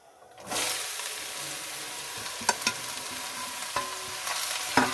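Bottle gourd pieces hit a hot pan with a sudden loud sizzle, then keep frying steadily while a spoon stirs and scrapes now and then, close up with no voices.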